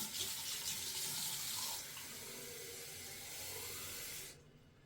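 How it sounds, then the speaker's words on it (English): Warm water runs from a tap into the tank of a powered ear wax remover, a soft, steady hissing pour that changes pitch partway as the tank fills, then cuts off abruptly near the end. "So let's fill it with warm water."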